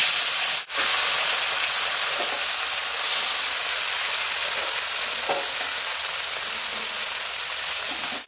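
Hot oil sizzles steadily around small bata fish frying in a pan, an even, close hiss broken by one quick knock early on and faint stirring touches.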